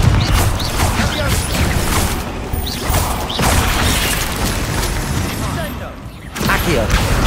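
Repeated Confringo blasting-spell explosions in Hogwarts Legacy, a series of loud crashing booms and clattering impacts every second or so amid busy combat noise, with a brief lull near the end before another burst.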